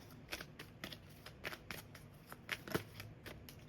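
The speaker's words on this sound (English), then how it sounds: "Let me just get the other cards here." Tarot cards handled and shuffled on a table, a quiet run of soft riffling flicks and slides in quick uneven bursts, close and alone without talk.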